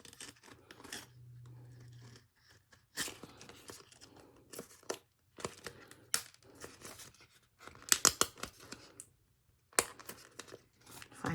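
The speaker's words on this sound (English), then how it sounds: "let's go ahead and peel this one back as well" A Cricut Infusible Ink transfer sheet is peeled back from a mug in short, close bursts of crinkling, tearing paper with quiet pauses between them, plus a brief low hum near the start.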